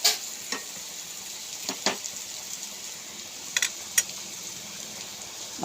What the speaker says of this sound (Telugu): ఇది కాస్త వేగనివ్వాలి.